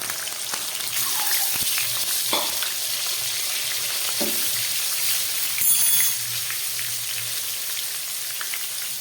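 Eggs fry in hot oil seasoned with salt and turmeric, a loud, continuous hiss of sizzling with occasional scraping and spatters, no talk.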